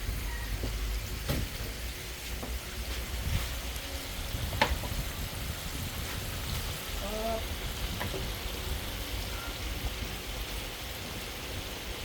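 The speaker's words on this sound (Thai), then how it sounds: "พอแล้วก็เอาลงกระทะได้เลยนะครับ" Flour-coated KFC-style chicken fries in a pan of hot oil, giving a faint, steady sizzle with scattered small crackles throughout.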